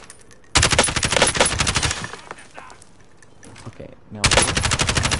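Rapid automatic nail gun fire in Fortnite, loud bursts of repeated shots at the start, a quieter stretch with a brief spoken word, then another dense burst of fire near the end.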